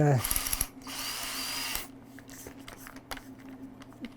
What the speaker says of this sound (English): we're drilling right through the last of the 3 holes now